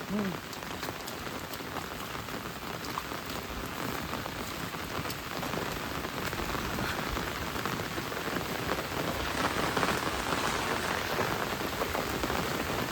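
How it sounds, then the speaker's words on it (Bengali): Heavy rain pours steadily onto surfaces around a rural area with guava orchards, a dense, even hiss of drops that holds for the whole stretch, with no voices. "ব্যাপক বৃষ্টি নামছে যে।"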